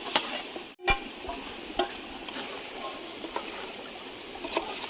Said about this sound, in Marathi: तर मित्रांनो फायनली टाकूया चिकन हे